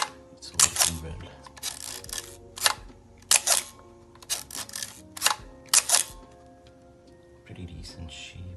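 A Contax rangefinder film camera's shutter fires in a string of sharp, close mechanical clicks, some in quick pairs, with gaps between releases and a softer rattle near the end.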